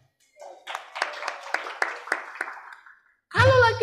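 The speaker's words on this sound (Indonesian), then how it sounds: "Tepuk tangan dulu untuk ikhwannya" An audience at a Yuk Ngaji religious talk and love-themed concert in Kendari claps in a brisk, even rhythm of about a dozen sharp strikes, fading out before a voice cuts in loudly at the end.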